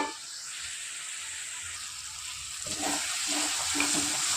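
Boiled potato and papaya sautéing in oil, a soft, steady hiss of frying that grows slightly louder midway, joined by a few faint low taps from stirring.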